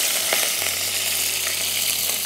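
Curry leaves crackle and sizzle in hot oil in a pan while cooking egg thokku, a loud, steady frying hiss close by with small popping bursts.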